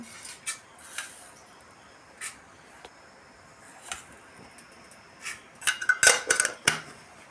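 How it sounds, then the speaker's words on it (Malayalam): Mustard seeds splutter in hot coconut oil inside a pressure cooker, with sparse sharp pops early on that build into a quick cluster of crackling bursts near the end. "കടുകിട്ട് പൊട്ടിക്കുന്നു"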